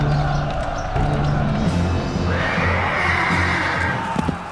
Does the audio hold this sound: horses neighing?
yes